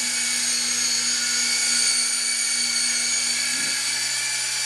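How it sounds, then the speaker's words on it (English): Syma S032G remote control toy helicopter flying in reverse, a steady high-pitched electric motor and rotor whine holding constant and fairly loud throughout, with no talk. "I want to back the helicopter up."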